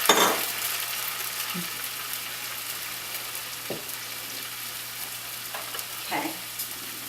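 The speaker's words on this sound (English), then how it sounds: "the marsala wine went in, the rosemary, and I just let that come to a quick simmer" Marsala wine and rosemary simmering in a pan beside pork medallions, giving a steady soft sizzle and bubbling with occasional faint utensil clinks, close and continuous.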